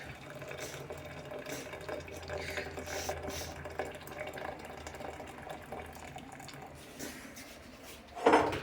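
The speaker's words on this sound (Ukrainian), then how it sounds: "Зараз я мірний стакан ставлю і заливаю сюди кип'яток." Boiling water is poured from a measuring cup into a container while making a no-bake dessert, giving a quiet, uneven splashing and trickling with small clinks, ending in a sharper clatter.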